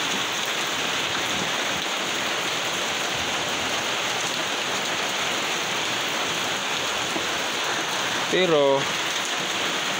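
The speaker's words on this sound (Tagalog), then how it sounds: "Kulimlim langit, wala namang hangin, ulan lang talaga." Rain falls steadily on a still, windless overcast morning, a dense even hiss throughout, with a brief spoken word near the end.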